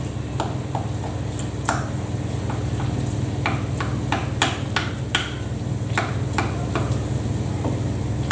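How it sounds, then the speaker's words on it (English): Whole tinned tomatoes are broken up against the back of a spoon in a pan over a steady sizzle, with irregular sharp metallic taps and scrapes of the spoon on the pan scattered through a constant cooking hiss. "Then I just chop them on the back of the spoon as they go in."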